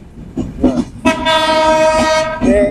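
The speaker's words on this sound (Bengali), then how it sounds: "এই যে দেখতে পাচ্ছেন একটা রেল আসতেছে" A train horn blares in a long, loud sustained blast as a train passes close by at a railway station, with rumbling rail noise and brief voices before it.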